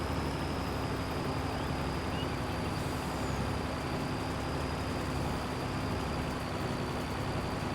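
One of the smaller trucks in Farming Simulator 22, its engine idling with a steady drone and a constant tonal whine, unchanging throughout.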